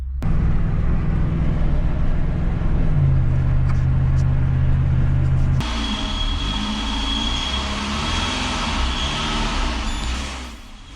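A car engine with milk poured into it runs weakly, lacking power, giving a loud, steady low drone whose tone shifts abruptly partway through before fading at the end.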